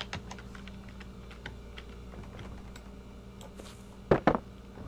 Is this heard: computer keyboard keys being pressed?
yes